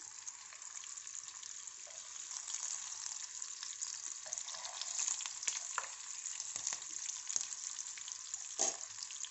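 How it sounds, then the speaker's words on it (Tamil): Oats and cheese fingers frying in a pan, a continuous soft sizzle and crackle with scattered small pops as melted cheese bursts out, heard alone and fairly quiet. "அது நம்மளோட சீஸ்லாம் பேர்ஸ்ட் ஆகி வெளியே வர ஆரம்பிக்குது"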